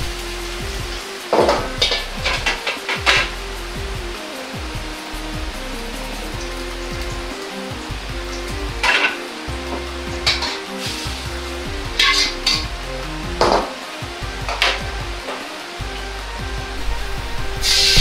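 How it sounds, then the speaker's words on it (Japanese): Onions and green peppers sizzle and crackle as they deep-fry in hot oil, with bursts of louder frying as batches drop in and are stirred, no talking. "玉ねぎとピーマンを揚げます。"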